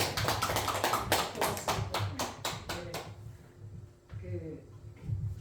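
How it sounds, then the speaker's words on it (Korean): An audience claps loudly for about three seconds at a Korean laughter-therapy lecture as a speaker is welcomed on stage. The applause gives way to a single voice talking. "큰 박수 부탁드리겠습니다"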